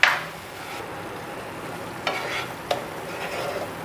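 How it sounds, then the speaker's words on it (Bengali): Spices with turmeric and salt are stir-fried in a pan: a faint sizzle under a few distinct scraping stirs, one at the start and two more near the middle and end. "এবার ভালো করে মশলাগুলোকে কষিয়ে নিতে হবে।"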